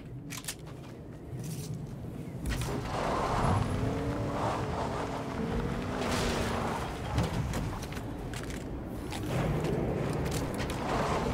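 A car engine drones in a video game, a moderate mechanical hum that rises and falls over several seconds alongside scattered bursts of other game noise.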